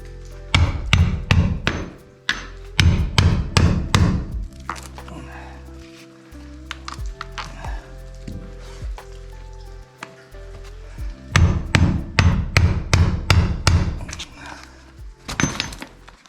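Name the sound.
hammer striking chisel into wood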